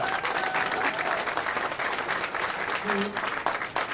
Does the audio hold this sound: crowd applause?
yes